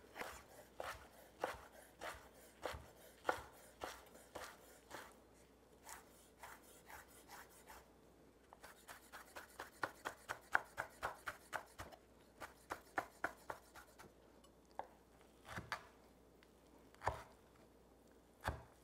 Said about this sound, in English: now I'm just gonna slice up these grape leaves just like this